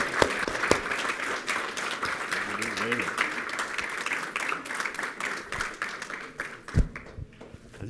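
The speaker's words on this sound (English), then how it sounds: "round of applause for Satish Bhai" An expo audience in Mumbai gives dense, energetic applause as the chairman is called forward, with scattered cheers and voices mixed in before the clapping thins out near the end.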